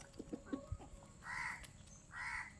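A few short clucks from a chicken, then two longer, louder squawking calls, heard fairly faintly against background noise.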